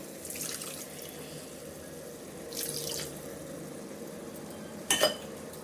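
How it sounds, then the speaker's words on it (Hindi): Running water splashes in three short bursts as it is poured into a pan of cooked spices, with a sharper clatter near the end over a low steady background hum. "अब इसमें हम पानी ऐड कर देंगे।"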